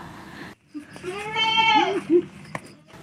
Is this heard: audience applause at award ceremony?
no